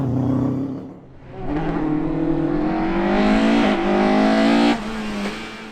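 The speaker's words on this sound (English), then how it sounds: "PJ Houston takes fifth fastest in the Impreza" A Subaru Impreza rally car races at speed, its engine roaring loud and close. After a brief dip between gear changes, the revs climb in a rising whine.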